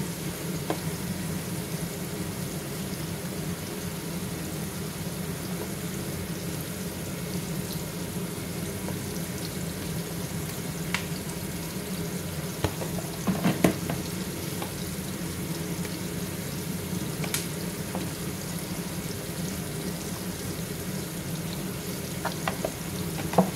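Onions fry and brown in about four spoonfuls of oil in a pan for Pakistani lamb rice, a steady, even sizzle that continues without a break, with occasional faint clicks and stirring sounds.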